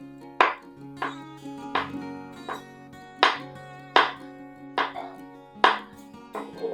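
Green chillies are chopped finely with a knife on a board for a ring samosa filling, giving about nine sharp, evenly spaced, close chops with no talk.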